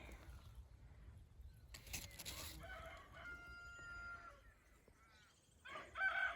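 Chickens cluck and a rooster crows nearby in a garden, the crow rising clearly in the middle with scattered clucks and brief calls around it against a quiet outdoor background.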